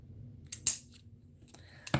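Scissors snip a book shape out of paper in a few sharp, close cuts spaced across quiet moments, with no talk.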